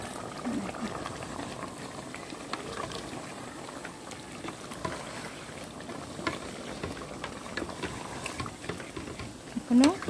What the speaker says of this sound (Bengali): রাইস কুকারে যে চিকেন বসিয়েছি সমস্ত কিছু মাখিয়ে একবারে দিয়ে দিয়েছি।